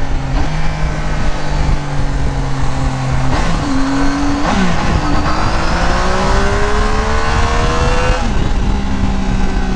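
A Triumph Tiger 800 with an engine remap is ridden hard, its loud, close engine droning steadily and shifting pitch as it accelerates through gears, wind noise constant throughout.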